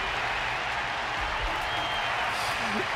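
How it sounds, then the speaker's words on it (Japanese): An arena crowd at a Honkai Star Rail Wardance event applauds a Belobog boxer, a dense, steady wash of clapping that runs the whole stretch at an even level, with a voice talking over it. "観客は絶え間ない拍手をこの屈強なベロブルグのボクサーに捧げている。"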